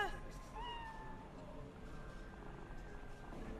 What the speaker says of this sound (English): It purred this time.